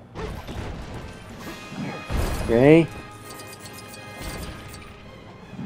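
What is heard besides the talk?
smashing Lego objects in video game Lego Batman 3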